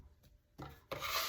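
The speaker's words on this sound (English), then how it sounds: "Using your bench scraper to fold" A bench scraper scrapes and folds sweet potato biscuit dough on a floured surface, with two soft, close rubbing strokes growing louder toward the end.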